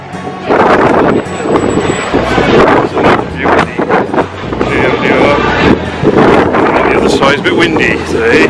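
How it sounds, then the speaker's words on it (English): Strong gusts buffet the microphone outdoors on a Las Vegas street, a loud steady rumble of wind noise running throughout with broadband bursts and talk mixed in. "It's a bit windy today."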